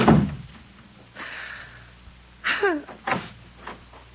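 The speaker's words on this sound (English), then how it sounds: "Did I hear the front door slam?" A front door slams shut inside a house, a single sharp bang followed by a few lighter knocks and rattles as it settles, heard close and alone without speech.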